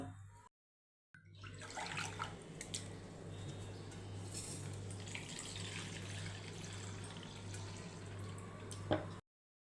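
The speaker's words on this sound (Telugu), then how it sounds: "ఇలా తీసుకున్న ఇడ్లీ రవ్వను ఓసారి శుభ్రంగా వాష్ చేసుకుందాం" Idli rava (semolina) is rinsed in water by hand in a kitchen, giving soft sloshing, squishing and dripping sounds, quiet and continuous after a brief silent gap, with a light clink near the end.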